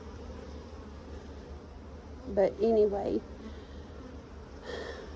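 Honey bees buzz at an open hive during leveling and crazy-comb correction, a steady close hum running throughout, with a short spoken phrase midway.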